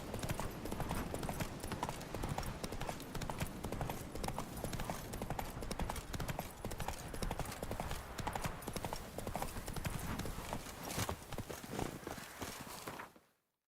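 The video game horse Roach walks steadily, its hooves clip-clopping in a continuous rhythmic beat, near and loud throughout before cutting out at the end.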